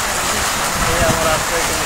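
Rain falls near closed shops in a brief stretch of dense, continuous hiss of drops hitting the ground close by.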